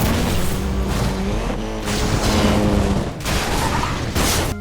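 Need for Speed racing game car engine roaring loud and continuous, with harmonic revs rising and falling and a tire screech, steady and close throughout with brief dips near the end.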